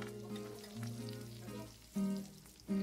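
Beaten egg mixture hits hot oil around eggplant in a tilted frying pan for a Bengali stuffed-eggplant omelette, giving a steady close sizzle with louder surges near the end; no talking.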